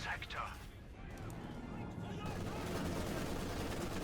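Maxim machine gun fire and battle noise in Company of Heroes 2 form a dense, continuous wall of rattling gunfire, with a commentator talking over it throughout.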